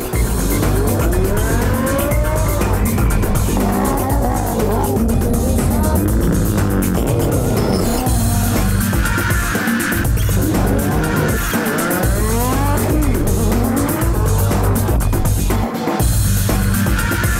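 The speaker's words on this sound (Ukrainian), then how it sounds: "Демонстрували машини під час четвертого етапу Кубку України з драгрейсингу" Drag racing cars at a stage of the Ukrainian drag racing cup on an airfield, loud close engines revving and roaring with rising and falling pitch sweeps and tire squeal, continuous and intense throughout.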